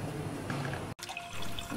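Water poured into a pan for Hunza tea makes a steady close splashing stream that stops sharply midway, followed by lighter dripping and trickling. No one speaks.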